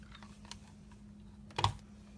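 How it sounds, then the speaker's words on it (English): A Starburst paper punch punching out scrap black paper: a few faint clicks and rustles, then one sharp, near crunching snap, with no talking. "And I'm going to punch that out. And then I'm going to use the Starburst punch."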